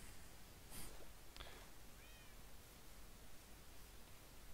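A pet cat in Minecraft gives a couple of short, faint meows over steady background hiss, with no voices.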